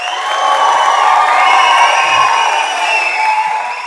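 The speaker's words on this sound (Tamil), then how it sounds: "இந்த அரங்கமே அதிர மாதிரி நம்ம உதய் சார்க்கு நல்ல ஒரு கரகோஷம் கொடுங்க." A large audience at a Tamil movie audio launch for Kalaga Thalaivan cheers and applauds loudly, a sustained dense roar with whoops that swells and then eases slightly.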